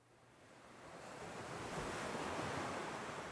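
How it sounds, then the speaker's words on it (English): Sea waves surge and wash after a massive rock splashes into the sea behind a ship, a soft broadband hiss that swells from quiet to a full, steady roar with wind-like noise. "The massive rock splashed into the sea just behind the ship."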